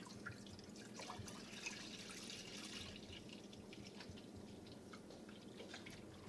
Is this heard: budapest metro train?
no